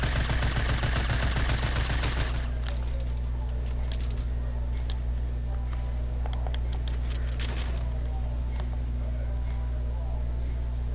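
Rapid bursts of gunfire from a PS4 shooter video game rattle loudly for about two seconds, then give way to a steady low hum with occasional faint shots and sparse background voices.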